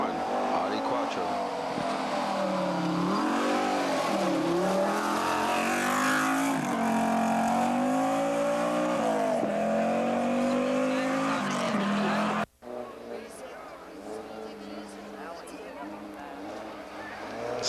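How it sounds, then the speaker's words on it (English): A rally car, an Audi Quattro on a forest stage at the 1989 Rally of the Tall Pines, revs hard through rising and falling gear changes with brief tire squeals. A commentator talks over it, then the scene cuts to quieter engine noise. "Paul Schwanier and John Buffum in the number 1 Audi Quattro"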